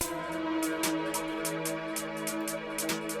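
Crisp snare hits repeat in a steady drill-style beat, with softer lower-velocity hits panned left and right trailing like a delay over sustained tonal music.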